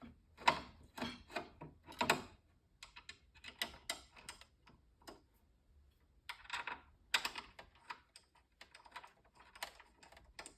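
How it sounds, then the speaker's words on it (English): Screws being fastened into the cap frame of an XT Pro drum hardware setup, a quiet run of small irregular clicks and ticks in close bursts with pauses between. "then you want to put in your screws"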